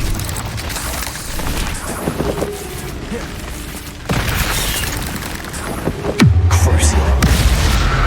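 A Bombarda spell detonates in Hogwarts Legacy with a loud, sudden boom, followed by a lingering low rumble; other spell-combat sounds and a sharp whooshing impact surround it during a fast duel.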